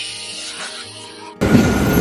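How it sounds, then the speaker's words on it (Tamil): A passenger train sounds close by: a quieter, muffled stretch gives way to a sudden loud, broad rumble and rush that continues to the end, with no talk. "இதுதான் நம்மளோட ட்ரெயின்."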